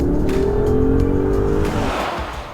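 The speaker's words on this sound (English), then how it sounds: "this car is vastly superior in a straight line to James's Escalade" A 2021 Mercedes-Benz GLS SUV with turbos and EQ Boost starter alternator accelerating hard, a loud rising engine drone close by that eases off toward the end.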